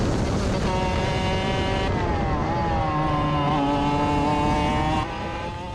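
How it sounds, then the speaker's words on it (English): Race car engine running hard on track, its tone shifting as the exhaust fails mid-race, a loud continuous buzzing drone with rising and falling pitch, dropping slightly in level near the end. "Yep, that's an exhaust failure."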